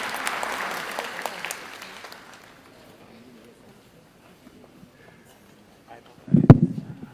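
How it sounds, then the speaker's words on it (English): A crowd applauds loudly for a couple of seconds at the close of a national wage bill conference in Nairobi, and the clapping fades into quiet. A single low thump sounds near the end. "One more round of applause for His Excellency, please."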